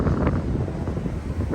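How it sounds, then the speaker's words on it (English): Strong wind buffets a microphone outdoors, producing a loud, continuous low rumbling roar with gusty swells and no voices. "Sorry, it's so windy."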